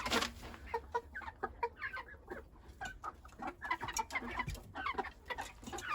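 A flock of farmyard chickens clucks busily and close by while pecking at unfamiliar new feed, with overlapping short calls and soft pecking sounds throughout.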